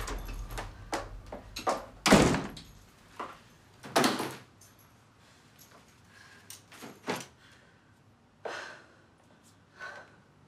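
Door sounds in a domestic drama scene: a series of sharp knocks and thuds, some louder bursts, spaced irregularly against a quiet room background.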